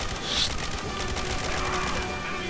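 Gunfire in the Quantum of Solace video game at a construction site alley, with a continuous rapid burst of shots sounding loud and dense throughout.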